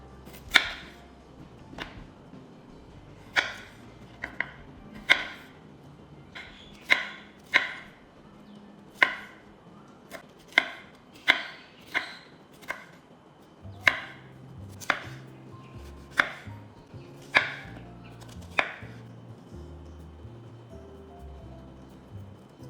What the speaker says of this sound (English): Cut all your vegetables into bite-sized pieces.